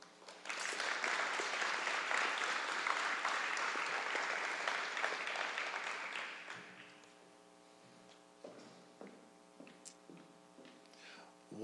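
A crowd at a senior honors night applauds in a long, dense round that tapers off after about seven seconds, leaving room noise, scattered taps and a faint voice.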